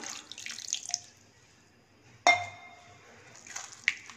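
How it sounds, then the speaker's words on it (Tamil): Filtered tamarind water, from lime-sized tamarind soaked in water, poured into mashed sambar rice in a kitchen; a short, quiet splash and trickle, then a sharp clink of a vessel and a little more liquid sound. "புளி தண்ணி ஊற்றிக்கலாம்."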